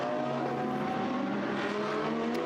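A Porsche GT4 race car drives at Spa-Francorchamps during a 12-hour endurance race, with a loud, sustained engine roar and a shifting whine held steady across the brief moment.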